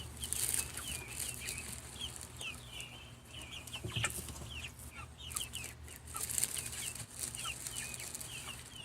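Young pullet hens cluck and chirp in a coop, with soft, frequent calls overlapping at moderate distance and occasional wing flaps and rustling.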